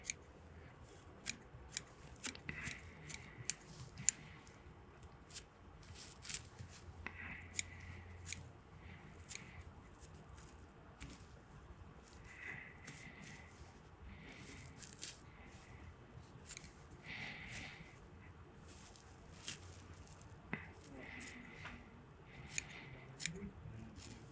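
Scissors trimming deer-hair on a sculpin streamer fly, with many quiet, crisp snips in irregular bursts throughout, close up in a quiet room.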